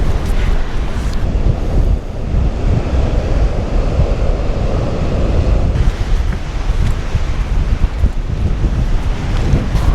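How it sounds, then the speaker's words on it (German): A fresh sea breeze blows steadily at the coast, with loud, continuous wind buffeting against surf noise and no pauses. "Eine frische Brise hier, oder?"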